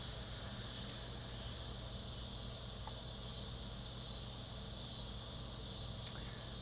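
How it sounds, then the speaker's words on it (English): Steady dense insect chorus of cicadas drifting in through an open back door, a continuous high buzzing drone filling the whole stretch at moderate level with faint indoor clicks on top. "There's lots of cicadas out there."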